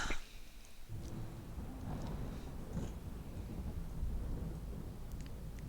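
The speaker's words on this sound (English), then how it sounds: "There it is. Got our big storm." A big storm in the video game Against the Storm brings deep, rolling thunder that builds after a short pause and stays under steady heavy rain and wind.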